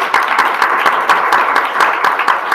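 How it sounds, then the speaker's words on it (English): A room of attendees at the hackseq18 hackathon final presentations gives the presenters a round of applause, with dense, steady clapping at close range for a couple of seconds and no talk over it. "Maybe we just give you all a round of applause for doing a really great job."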